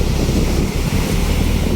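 Strong wind roars steadily against the microphone at a Manila Bay beach, a loud continuous buffeting rush with water sounds beneath.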